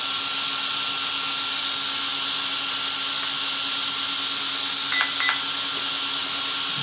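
An Arrma Granite RC car's motor and ESC are held at full throttle during calibration, giving a steady, even electric whine throughout. Two quick electronic beeps sound partway through.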